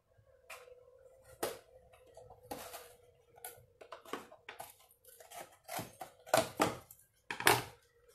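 Scissors cut the bottom off a milk carton for a kids' coin purse craft, producing sparse, quiet, close snips and crackles of waxed cardboard that grow slightly louder toward the end.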